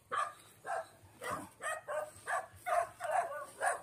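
A dog barks repeatedly in a steady rhythm, about ten sharp barks at moderate distance, with faint background noise.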